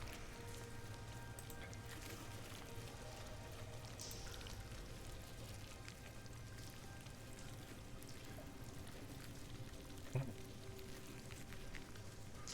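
Water drips and runs through a cave complex, a steady faint pouring wash with occasional soft drops and one brief louder splash, no voices present.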